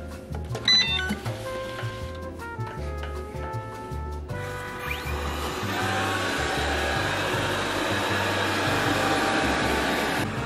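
A slim vacuum cleaner runs with a steady, fairly quiet whir that begins after a few short tonal beeps, then continues evenly and alone.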